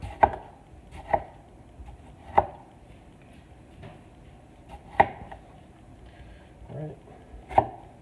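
A knife chops tomatoes for pico de gallo on a cutting board: about six sharp, well-spaced chops with quiet handling between them and a brief spoken remark.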